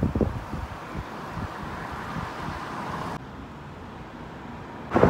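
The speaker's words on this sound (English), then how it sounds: "it is very windy out here." Strong wind buffets the microphone outdoors on a downtown street near a courthouse, a gusty rumbling roar with faint traffic beneath that drops a little, then a sharp gust at the end.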